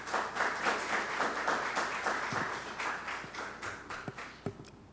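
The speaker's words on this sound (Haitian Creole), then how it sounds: "Encore sur vos applaudissements." A conference audience applauding, dense clapping that is loud at first and then thins into scattered individual claps toward the end.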